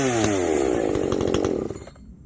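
An Echo CS-590 chainsaw with a modified carburetor screams loud and close at full throttle, holding at the coil's rev limit with a stuttering, bouncing edge before the engine drops off near the end.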